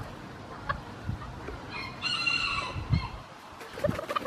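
Several chickens cluck and squawk nearby, with a rooster-like crowing call rising briefly in the middle, outdoors and without talk.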